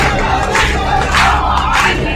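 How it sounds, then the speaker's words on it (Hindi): A large crowd gathered at a temple in Rajasthan shouts together in loud, swelling chants, dense and close, with rising surges of voices. "देखते ही देखते मौके पर भारी भीड़ जमा हो गई"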